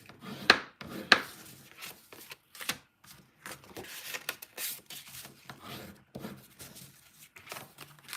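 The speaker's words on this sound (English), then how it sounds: "I think we're all done burnishing. So I got my bone folder, put that away." Bone folder burnishing paper die cuts at a craft table, a dry scraping and rubbing texture in uneven strokes with two sharper taps near the start, fairly quiet and close.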